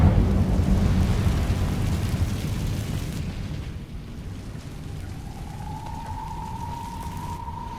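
Incendio fire spell cast in Hogwarts Legacy: a loud, broad whooshing roar of flame that rushes out at first and slowly tapers over several seconds, settling into a softer rumble with a thin rising tone near the end.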